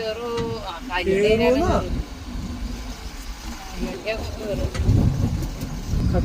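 A car drives over a badly broken, potholed road, its engine and tyre rumble running steadily throughout while people talk over it for the first couple of seconds.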